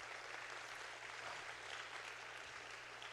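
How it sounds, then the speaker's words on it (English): Audience applause at a startup competition finals summit, a steady dense wash of many hands clapping throughout, moderately distant and fairly faint. "So give yourself a round of applause."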